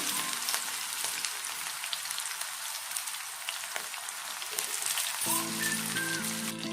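Bitter gourd pieces frying in about four tablespoons of hot oil in a pan, a steady dense sizzle and crackle running throughout with no talk.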